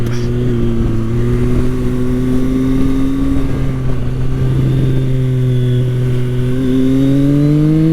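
A Triumph Sport 660 motorcycle at a track day gives a loud, sustained engine note that climbs steadily in pitch as the rider accelerates and leans through a corner.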